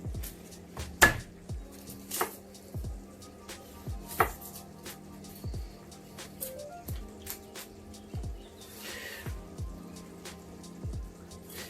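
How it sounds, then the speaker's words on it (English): A knife chops ingredients for beef fricassée on a cutting board, with about a dozen distinct, fairly quiet thuds at an uneven steady pace and a faint background hum, with no talking. "Try not to chop my fingers off at the same time"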